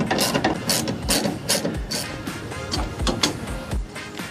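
10mm lock nuts are tightened on a tailgate ladder with a ratcheting wrench, giving a loud, close, steady run of rapid ratchet clicks with no talking.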